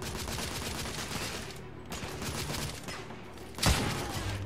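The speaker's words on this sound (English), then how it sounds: "Yo, them snipers ain't playing." Sniper gunfire in the video game The Order: 1886, a steady dense barrage of shots with one loud close crack near the end.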